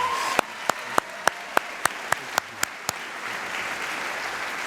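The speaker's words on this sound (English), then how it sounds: "So please give him a wonderful round of applause." A graduation ceremony audience at a high school gives a round of applause, soft and spread out, while a series of sharp, evenly spaced loud claps or knocks cuts through it before the crowd noise carries on alone.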